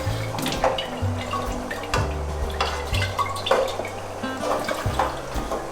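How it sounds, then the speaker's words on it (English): Meat and tomato sauce thinned with hot water being stirred in a pot for ragù alla Bolognese, with steady scraping and liquid sloshing and clinks of a utensil against the pot, close and continuous without talk. "We're gonna put this tomato sauce with the meat and mix it."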